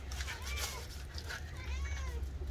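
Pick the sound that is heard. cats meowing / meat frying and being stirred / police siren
cats meowing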